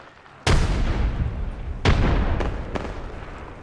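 A frag grenade explodes in Apex Legends with a loud, sharp blast that rumbles on, followed by a second strong boom and two quicker, lighter bursts, all up close with no talk.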